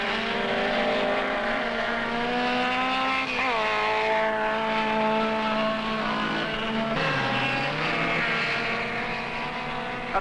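Super Vee race cars scream around the Phoenix track with a loud, sustained engine whine. The pitch of their buzzing engines rises and falls as they pass close by and sweep on, and no voices are heard.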